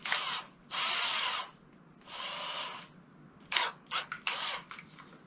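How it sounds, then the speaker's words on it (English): A power drill whirs in several bursts while drilling holes in a skateboard deck, two long runs followed by a string of short, quick trigger pulls, loud and close with no talking. "I'm going to drill those holes first"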